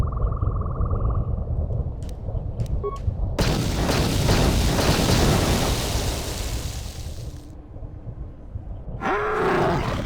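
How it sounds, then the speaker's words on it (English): An explosion in the video game KOTOR 2 goes off with a sudden loud boom that becomes a long, dense roaring rumble lasting several seconds, then cuts off abruptly before a brief swell of game sound returns. "That explosion has stirred many life forms in the area."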